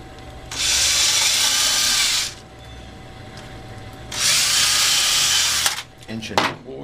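A power drill bores pilot holes in wood while a bird feeder is being built, in two steady high-pitched whirring bursts of about two seconds each, separated by a quieter pause. Brief clatter follows the second burst.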